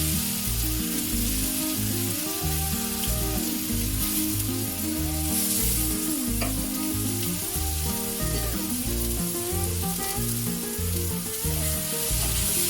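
Ground masala paste sautéing in hot oil in a pan for a plain gravy, a steady sizzle and frying crackle running continuously throughout, with a layer of tonal background sound underneath.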